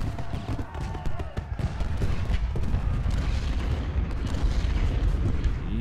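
Cannon booms from canister shot in the Civil War game Ultimate General: Gettysburg, Union Day 3 at Benner's Hill. A dense, continuous rumble of heavy blasts rolls on throughout, loud and unbroken.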